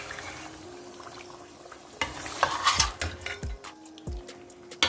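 Spoon scraping and clanking through Afghani chicken karahi in a pan as it is mixed, starting quiet and turning into a run of close, sharp knocks and scrapes over a soft background hiss.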